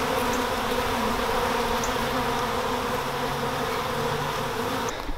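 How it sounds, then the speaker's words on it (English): Steady, dense buzzing of many honeybees around a hive in an apiary, a continuous close drone with no voices. "It's very soothing to sit next to the bees and listen to them humming"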